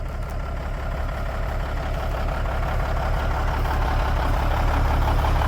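A 2000 Harley-Davidson Glide motorcycle engine idles close by, a steady low, loud rumble with an even throbbing pulse that holds without break.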